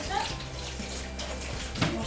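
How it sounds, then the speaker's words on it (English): A kitchen tap runs warm water for washing up, a steady broadband rush that fills the whole stretch, with faint sounds of someone moving nearby. "I'm going to run my washing up water ready because I like to wash up as I go along"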